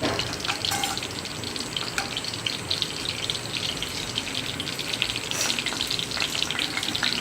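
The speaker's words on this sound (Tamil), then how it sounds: "பாருங்கள், அது ஃப்ரை ஆகிடுச்சு" Cinnamon and cloves fry in hot oil for a mutton curry, a steady, dense sizzle that stays loud and even throughout, with a few brighter crackles.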